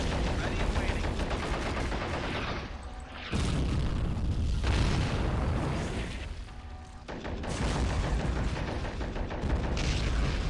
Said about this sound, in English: The artillery is really trying to aim for that tank.